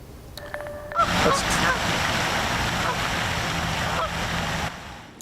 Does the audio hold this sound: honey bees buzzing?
no